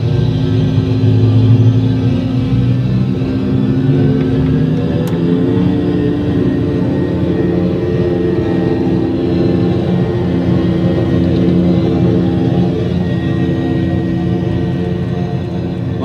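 A fixed-wing aircraft takes off, its loud, steady low engine rumble and roar holding throughout with no talk over it.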